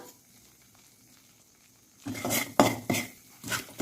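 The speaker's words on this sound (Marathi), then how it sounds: "मस्त गुलाबी होईपर्यंत आपण भाजून घ्यायचे रवा" Semolina roasting in hot ghee in a pan for churma ladoos, stirred with a metal spoon; after a quiet start, a few scraping, clinking stirs sound up close against the pan with a soft frying hiss.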